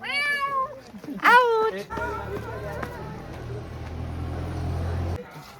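A person imitates a cat's meow several times in quick, wavering cries, followed by a low steady hum of background noise, at Matheran hill station.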